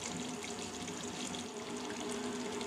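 Steady, faint rush of water being poured into a pot of rice, measured by the glass for chicken dum biryani, a continuous trickling stream with no voices over it.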